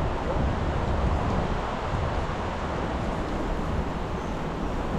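Strong wind sweeps across an outdoor bridge, buffeting the microphone with a continuous loud, rumbling roar that barely changes from start to finish.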